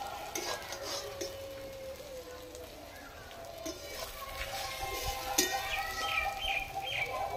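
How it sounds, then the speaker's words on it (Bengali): Egg frying in a pan for a spinach and egg dish, a steady close sizzle with occasional scraping and clinks from a spatula as it is turned, with faint birdsong in the background. "এইভাবে ডিমটাকে ভেজে নেব।"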